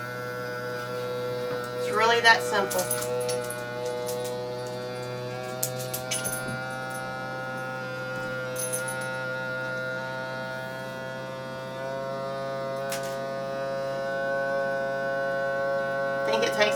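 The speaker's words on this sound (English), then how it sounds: "Got our little vacuum sealer." A small electric vacuum sealer pumps air out of quart mason jars of homemade cranberry granola, giving a steady, close droning motor hum that runs throughout, with a brief spoken remark over it.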